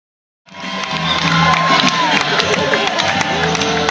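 A crowd at a July 4th mayor's parade cheers and claps, a lively mix of shouts, whistles and scattered applause that starts abruptly and stays loud and busy throughout.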